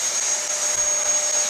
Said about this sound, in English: Look at this fantastic Hoover.